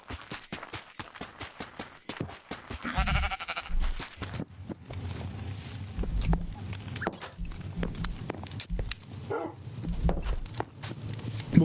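Sheep bleating in the video game Minecraft, several repeated bleats over a busy mix of sharp clicks and low thumps from gameplay, fairly loud and continuous with no talking.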